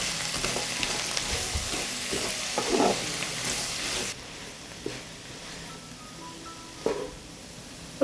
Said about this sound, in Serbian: Na zagrejano ulje spuštam luk i dinstaću ga 20 minuta dok ne omekša.